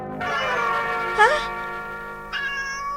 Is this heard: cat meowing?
yes